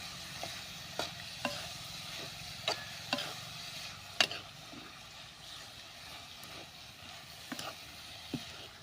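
Hyacinth bean vegetable is sautéed in a pan with a soft, steady sizzle. Sharp spatula clicks and taps against the pan repeat irregularly as it is stirred, and no one speaks.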